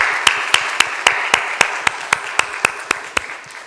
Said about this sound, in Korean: 이분들을 위해서 감사의 박수를 한번 하겠습니다